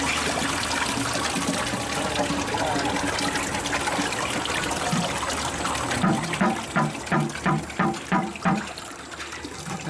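Water from a five-gallon pail flowing through, a steady close trickle and gush that turns into rhythmic gurgling glugs toward the end.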